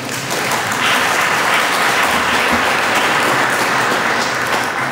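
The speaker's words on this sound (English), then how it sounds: "That is unbelievable and worth an applause" An audience applauds for a distinguished guest at a talk event, dense, loud clapping that holds steady for several seconds.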